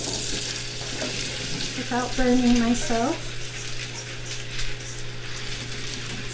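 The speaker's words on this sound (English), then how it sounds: "so my oil is sizzling." Something frying in oil in a home kitchen while a Southern dinner is made, with a steady broadband sizzle running the whole time and a person briefly talking partway through.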